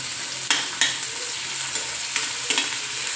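Onions sizzle and fry in hot oil in a pan for a capsicum gravy, a steady crackling hiss broken by several sharp scraping stirs of a spoon against the pan.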